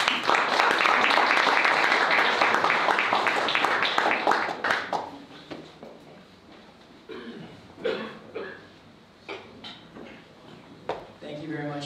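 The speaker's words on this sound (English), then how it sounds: "Give him a round of applause." Meetup audience in Seoul applauding a speaker onto the stage, a dense burst of clapping for about five seconds that fades into scattered claps, thumps and room noise.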